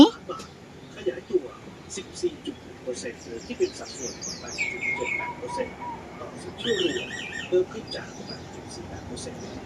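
Spotted dove nestlings in a nest in a back kitchen give thin, high chirping calls in scattered bursts, close by but soft, with quiet talking alongside.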